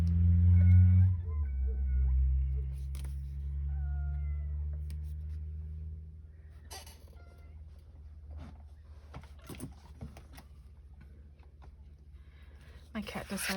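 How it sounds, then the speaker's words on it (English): A pet cat meows a few times near the start, with clear rising calls close to the microphone, then gives way to a quiet room with light handling noises. "My cat decided she wanted to come sit on my lap."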